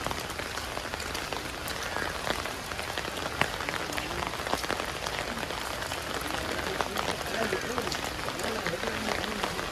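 Steady heavy rain pours over a quiet, empty village market in Bangladesh, a dense even hiss with scattered drops spattering on nearby surfaces throughout.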